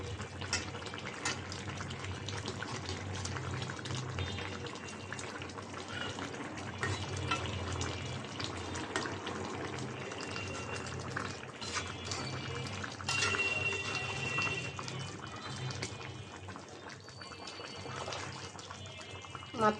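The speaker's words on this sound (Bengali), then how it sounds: "মাছটা বলক এসেছে" Silver carp curry with tomato bubbling in a pan, a dense, fairly quiet continuous boil with watery bubbling and an occasional clink of stirring, heard up close with no speech.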